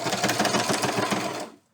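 Sewing machine stitching ribbon onto paper, with a rapid, steady mechanical chatter heard close and loud for about a second and a half before it stops abruptly.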